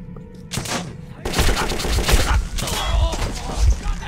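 Rapid bursts of gunfire in the post-apocalyptic shooter Metro 2033, a dense fusillade of loud, close shots after a brief quieter start, with a voice muttering over it.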